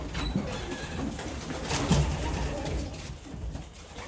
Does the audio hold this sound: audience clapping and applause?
no